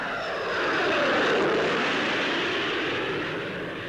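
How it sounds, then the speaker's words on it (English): An Ashton jet aircraft fitted with a Rolls-Royce Conway bypass engine roars past close by at the 1955 Farnborough Air Show, a broad rushing engine howl that swells and then slowly fades. "here, installed under an Ashton, is the Rolls-Royce Conway bypass engine"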